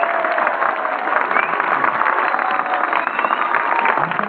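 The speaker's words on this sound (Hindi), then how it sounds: "जोरदार तालियां।" Students at a Kashmir Day event at a government school in Model Town, Lahore, give loud, sustained applause, a thick wash of many hands clapping at once with crowd murmur underneath.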